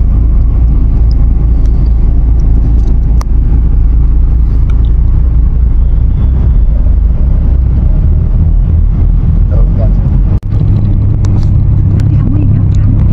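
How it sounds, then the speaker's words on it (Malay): A bus pulls in and stops at Gombak bus station, its engine producing a loud, steady low rumble that runs without a break throughout, with one brief dip near the end. "Singgah di stesen bas Gombak."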